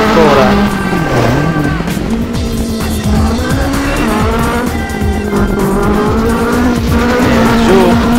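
Peugeot 206 WRC 2002 rally car in a racing game on a gravel stage in Umbria, its engine roaring loud and steady with rising and falling revs and tire squeal through the corners, continuous throughout.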